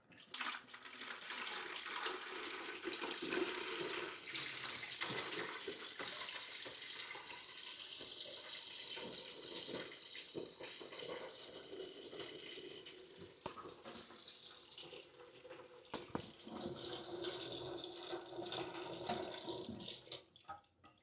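Water from a toilet tank gushes and splashes steadily for a long stretch, close and loud, tapering slightly toward the end as it keeps draining.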